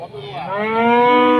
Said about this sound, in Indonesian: Nah ini dia teman-teman untuk sapi yang cukup luar biasa di hari ini teman-teman.